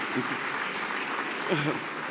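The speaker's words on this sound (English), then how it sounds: "So give yourself a round of applause" An audience at an awards gala applauds, a brief steady wash of clapping with a voice faintly beneath it.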